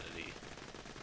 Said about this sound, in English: ADS Infinity.